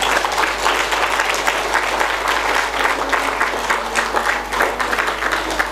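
Audience applause fills the whole stretch, a dense, steady wash of many hands clapping at even loudness without pause or voices.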